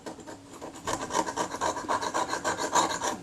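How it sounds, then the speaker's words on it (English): Residue being scraped by hand off the soft aluminium of a Kodak Retinette type 030/9 camera: a steady, close rasping scrape in quick back-and-forth strokes, continuous and fairly loud without speech. "But it's worth my while to physically scrape this stuff off than rely on solvents to do it"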